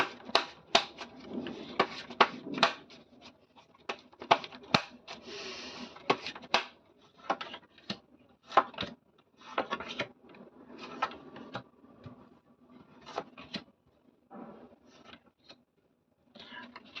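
Tarot cards being shuffled up close, a long run of brisk riffling clicks and flutters in uneven bursts, steady and fairly quiet with no voice over it.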